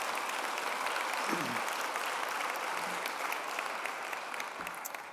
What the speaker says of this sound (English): Let's give them a round of applause for their leadership.